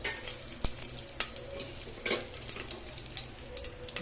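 Mustard seeds, curry leaves and dried red chillies fry in hot oil, a faint, steady sizzle broken by a few sharp pops and spattering crackles.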